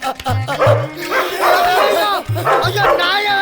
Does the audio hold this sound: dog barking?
yes